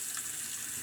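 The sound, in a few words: tap water running to get hot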